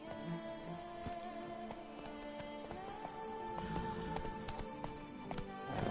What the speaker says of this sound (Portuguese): Então, monta-te lá o cavalo, mesmo.